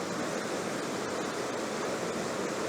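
A Dartmoor river rushes past in autumn, a dense, loud, unbroken roar of churning water that fills the whole moment with no voices.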